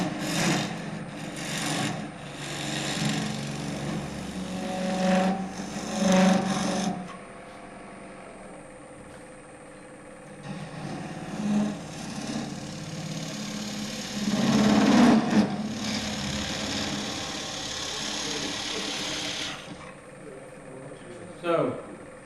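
Wood gouge shearing a spinning goblet blank on a lathe, heel of the bevel swinging forward into the cup; a steady raspy scraping with louder surges, heard under intermittent talk.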